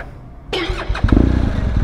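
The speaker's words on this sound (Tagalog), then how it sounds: "Hala, parang lobat yung motor." A BMW motorcycle with a seemingly weak battery cranks briefly, then the engine catches and settles into a steady, rough idle, close and fairly loud.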